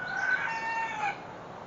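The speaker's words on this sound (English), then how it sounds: "the rooster's being noisy" A rooster crows once in a long, strained call, fairly close, fading out toward the end.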